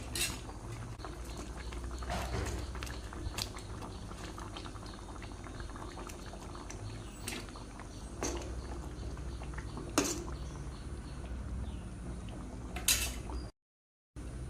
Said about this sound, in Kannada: ಇವಾಗ ಮಸಾಲ ಚೆನ್ನಾಗಿ ಕುದೀತಾ ಇದೆ